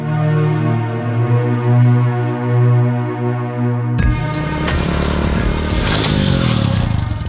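A motorcycle ridden at speed gives a loud, steady engine drone with shifting revs, then a sudden clattering, scraping burst as the ride is cut short.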